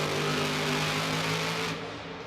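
A monster truck engine roars loud and sustained at high revs during a power wheelie at a Monster Jam freestyle run inside the Gelredome arena in Arnhem, tapering slightly at the end.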